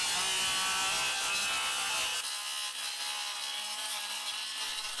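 A saw cuts lumber for wall framing on a house construction site, a steady bright grinding hiss that drops in pitch partway through, continuous and close with no speech.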